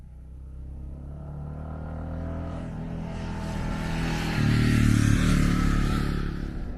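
Kawasaki KLR650 third-generation dual-sport motorcycle fitted with a fork brace, ridden on muddy ground, its engine droning steadily and swelling louder as it accelerates, close by with no talking.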